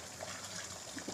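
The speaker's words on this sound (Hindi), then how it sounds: "अब हम इसमें ऐड कर देंगे इमली का पानी" Tamarind water being poured into a cooked masala for chicken biryani, a steady close gushing pour lasting about a second with no talk.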